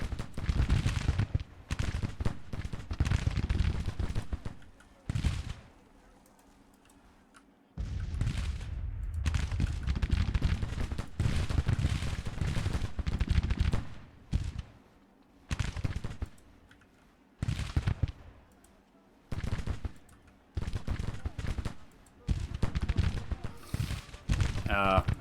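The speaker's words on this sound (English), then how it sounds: "what you need to do is shoot those buildings" Gunfire aimed at buildings in the Civil War strategy game Grand Tactician, crackling in dense rattling bursts separated by quiet gaps, fairly faint overall, with talking over parts of it.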